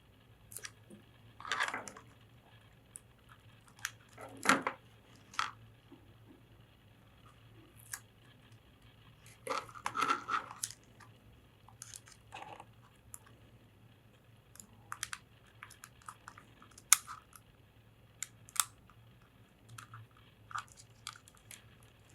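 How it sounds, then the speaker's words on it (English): Tape peeled off parts of a homemade robot car gives a few quiet, short crackly rips spaced apart, with soft handling clicks between them and no voices. "So I'll peel off the tape and do that"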